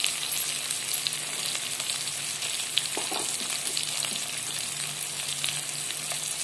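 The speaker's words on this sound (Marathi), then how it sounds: "आता आपण ह्याच्यामध्ये मोहरी घालून घ्यायची आहे, जिरे," Mustard seeds, cumin and asafoetida sizzle in hot oil, a steady close crackling hiss with scattered pops and small spatters, no voices over it.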